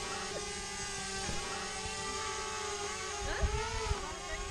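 A drone flying overhead on a hike gives a steady, high-pitched whining buzz that hangs over the whole stretch with slight pitch shifts, fairly close, with faint background movement and no clear speech.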